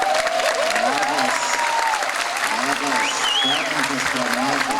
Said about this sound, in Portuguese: Palmas para o Giazi, né?